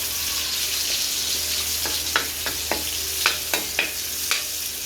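Onions sauté for pancit canton, with a constant close sizzle punctuated by several crisp knocks and scrapes of a spatula stirring in the pan.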